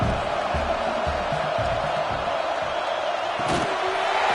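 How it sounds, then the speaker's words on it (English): A stadium crowd swells during a college football video game, Nebraska against Washington, as a steady broad roar with a few thumps near the start and a brief louder burst later, under commentary. "This crowd rising up, sensing that its defense needs some help."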